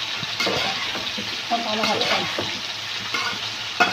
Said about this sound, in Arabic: احنا بنضل نشوح في دي كده في البصلة كده لغاية ما نشوحها تشويحة حلوة